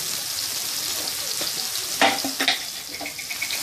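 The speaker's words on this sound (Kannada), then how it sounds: "ಟೊಮೆಟೊನು ಚೆನ್ನಾಗಿ ಫ್ರೈ ಆಯಿತು." Tomatoes frying with turmeric in a pan, a soft steady sizzle close by with a few sharp clinks and scrapes of a spoon stirring near the middle, no talk.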